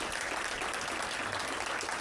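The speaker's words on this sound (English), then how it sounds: "Big round of applause for them." Applause from the audience at a State of the City address, a steady dense clatter of many hands clapping at full loudness throughout, with no break.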